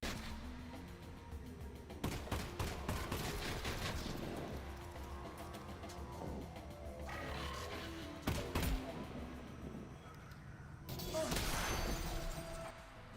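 Gunfire in a VR shooter game, bursts of shots with crashing impacts and rattling debris over a busy, dense background of game sound, loud throughout with sharper volleys near the start, middle and end.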